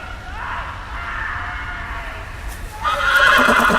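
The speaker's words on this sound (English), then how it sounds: "There goes the horse." A horse in the Game of Thrones video game gives a loud, drawn-out whinny, then a sharper, noisier burst of neighing near the end, with nobody talking over it.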